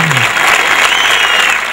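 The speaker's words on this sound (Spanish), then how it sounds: "un aplauso para todos ustedes" A short, loud burst of audience applause at an inauguration event, dense and continuous throughout.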